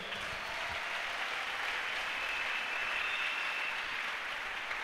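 A church congregation claps in a dense, steady round of applause that runs evenly through the whole stretch at a moderate distance.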